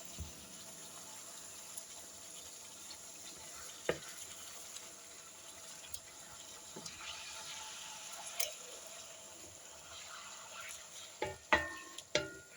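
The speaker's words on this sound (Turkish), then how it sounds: "çevire çevire birazcık kızartıyorum" Chicken pieces fry in a pan for a Turkish sac kavurma, with a quiet, steady sizzle under occasional scraping knocks as the meat is turned, and a few sharper clacks near the end.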